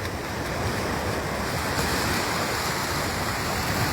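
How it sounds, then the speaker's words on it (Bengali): Sea waves break on a beach in a steady, broad roar of surf and foam, wide and continuous, with no voices present. "ঢেউ আছড়িয়ে পড়ে।"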